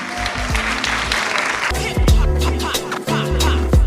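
Audience applause and cheering at an underground rap jam session at a year-end show, loud and sustained for several seconds with sharp claps and a bass-heavy beat underneath.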